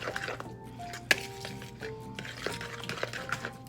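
Pepper stirred into egg salad in a bowl, soft wet squishing and light clinks of a utensil against the bowl, with one sharper tap, over low background hum and a faint voice.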